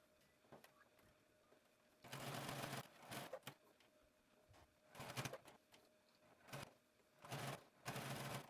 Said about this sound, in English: Now we're going to head to our sewing machine and we're going to top stitch around each of these rectangles